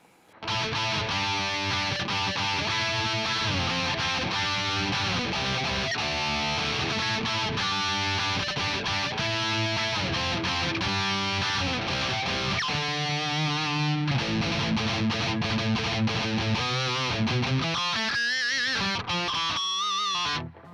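Electric guitar played through a Mooer GE200 Plus multi-effects unit on a classic metal preset, a dense distorted riff of sustained chords and palm-muted chugs running continuously, loud and alone.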